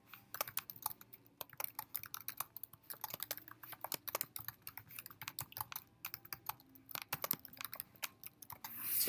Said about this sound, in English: I'm going to go ahead and type in a quick sentence here.